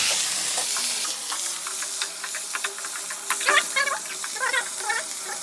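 Vegetables fry in a pan with cumin and panch phoron, giving a steady hiss of sizzling oil broken by light clicks and scrapes of stirring, close and moderately loud, with no one speaking.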